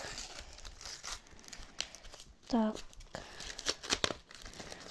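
Paper surprise packages are torn and crumpled open while being unpacked, giving short crinkling and ripping bursts between moments of speech, with one voice talking close by.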